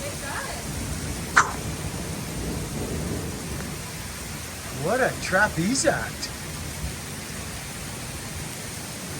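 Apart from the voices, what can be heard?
heavy rain pouring by a lake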